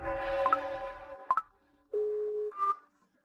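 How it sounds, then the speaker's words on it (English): A telephone is dialed to place a call: a few sharp button beeps mix with steady electronic tones, then a clear held tone and a short higher beep follow, close and with no talking. "Just in case, I'll make a phone call."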